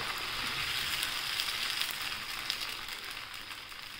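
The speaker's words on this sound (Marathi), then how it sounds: "तेल टाकले। आता आपण हा डोसा टाकून जसं हलवून घ्यायचं।" Lentil (masoor dal) dosa batter sizzles steadily on a hot oiled pan, a dense, even frying hiss that holds at constant loudness throughout, with no voices.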